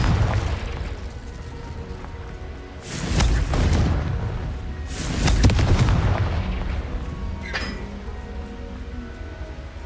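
Confringo explosive spell blasts in the Hogwarts Legacy video game: two heavy booming explosions a couple of seconds apart, each with a rumbling tail, over a continuous game ambience.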